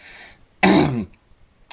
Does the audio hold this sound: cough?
yes